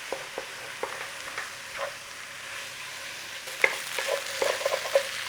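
Flour being stirred into mushrooms in a frying pan, a soft scraping stir over a steady low sizzle, with a few sharper clinks of the utensil against the pan near the end.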